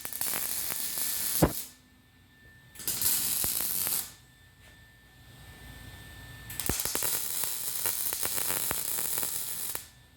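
Bursts of crackling, buzzing welding noise as steel braces are tack welded, starting and stopping in several spells, with short quiet gaps and sharp clicks between them.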